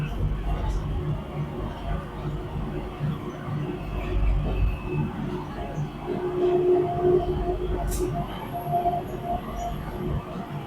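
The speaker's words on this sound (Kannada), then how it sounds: "ಸೊ ಸುಮಾರು ಸ್ಕೈ ಟ್ರೈನ್ಗಳು ಟರ್ಮಿನಲ್ 3 ಇಂದ 1, ಟರ್ಮಿನಲ್ 2 ಇಂದ 3, ಸೊ ಹಿಂಗೆ ಟರ್ಮಿನಲ್ಸ್ಗೆ ಸುತ್ತಾಡ್ತಾ ಇರ್ತವೆ" Changi Airport Skytrain running between terminals in Singapore, a steady low rumble and hum throughout with people talking over it.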